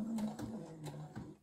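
A sewing machine runs quietly while stitching bias binding onto the side seams of a skirt to make a Hong Kong seam, giving a faint, steady mechanical hum with soft rhythmic ticks throughout.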